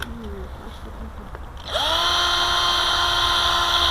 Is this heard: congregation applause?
no